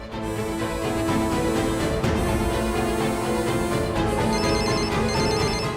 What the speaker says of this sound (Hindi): गोपिका मुझे क्लासरूम से फोन कर रही है।